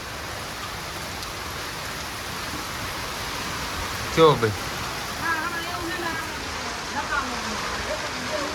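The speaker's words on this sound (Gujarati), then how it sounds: "બહાર ફૂલ વરસાદ હોય" Heavy rain pours in a dense, constant hiss. Someone says a few words briefly in the middle.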